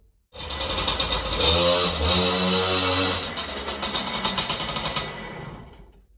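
A motorcycle engine roars loudly up close, holding a steady rev before settling into a rougher, pulsing idle.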